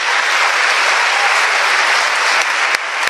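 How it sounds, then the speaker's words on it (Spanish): A church congregation applauds the mothers at a Mother's Day parish mass in Táchira, Venezuela, steady dense clapping filling the room for about three seconds with no talk over it. "Aplauso para nuestras madres."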